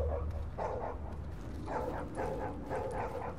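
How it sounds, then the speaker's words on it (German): A dog barks in The Division video game, a few short yapping barks in two bursts over steady game ambience, moderately loud and close. "Geh deinen Weg, Hund."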